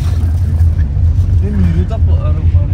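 A car being driven on a road trip, with a steady low engine rumble and road noise filling the cabin throughout while people talk faintly inside.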